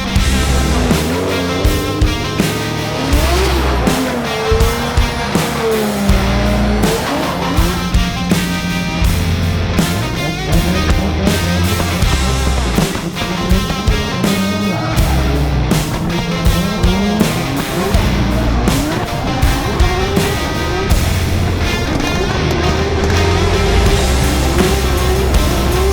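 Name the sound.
drift car driving in a drift championship battle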